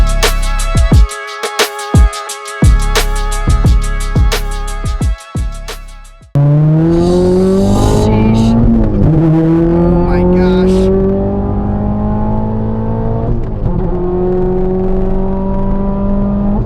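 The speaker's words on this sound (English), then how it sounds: "let's go for a drive" A turbocharged Ford Focus RS engine idles with a lumpy, rhythmic burble, then the car roars off and accelerates hard through several gear shifts, loud and close throughout.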